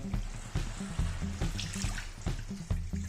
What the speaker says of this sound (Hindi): इसमें डाल देंगे तकरीबन 70 ग्राम पानी, 1/3 कप